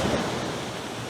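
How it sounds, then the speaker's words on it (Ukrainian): Ocean waves during a typhoon wash in as a continuous broadband roar, close and steady. "О, і тут хвилі прямо конкретно."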